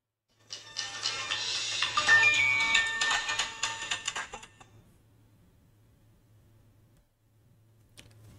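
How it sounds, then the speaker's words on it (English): Handset ringing on a call routed through a LimeSDR Mini 2.0 base station, a busy electronic ringtone lasting about four seconds, then a steady low hum with a faint click near the end. "we should be able to initiate a phone call between these two handsets"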